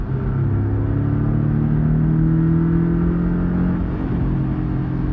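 Porsche 718 Cayman S engine with the sport exhaust open, pulling in fourth gear from around 4,000 rpm, a loud continuous drone whose pitch climbs steadily then eases back near the end.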